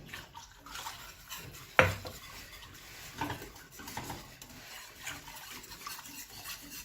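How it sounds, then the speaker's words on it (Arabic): Food stirred in a pan with a utensil, irregular scrapes and knocks against the metal and one sharp clank early on, close and moderately loud, with a faint wet patter between strokes. "نقلب."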